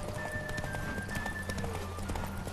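A horse gallops in The Witcher 3: Wild Hunt during a race, its hooves striking in a quick, steady clip-clop rhythm against a busy game soundscape, close and continuous.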